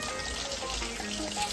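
Fish frying in a pan with tomato, a soft, steady sizzle with faint crackle, heard briefly up close in a home kitchen.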